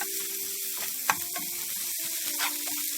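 Seasonings for corned beef hiss and sizzle steadily in a hot pan as they are stir fried, with a few soft scrapes and knocks from the stirring spoon close by.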